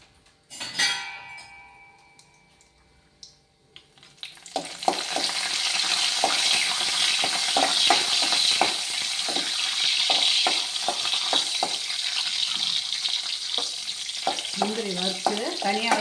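Cashews dropped into hot oil in a pan and fried, a bright steady sizzle starting after a few seconds of quiet clinks and handling, with occasional stirring scrapes over the crackle.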